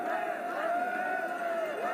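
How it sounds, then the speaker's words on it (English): Cricket stadium crowd at the Nepal vs UAE ACC Men's Premier Cup final, a steady roar of shouting, jeering and cheering filling the whole stretch, with a sustained tonal chant or horn line riding over the dense hubbub. "They're having to listen to all the shouting, the jeering, and also the cheering."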